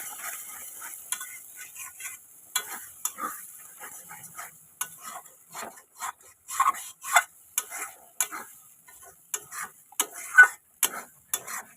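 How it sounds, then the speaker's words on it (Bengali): Pointed gourd mash with turmeric and spices being stirred in a pan, giving soft, irregular scraping and tapping strokes of a spatula over a faint sizzle, close by, with no talking. "এবার এইটা দিয়ে পটলের মিশ্রণের সাথে মশলাটাকে আমরা ভালো করে কষিয়ে নেব।"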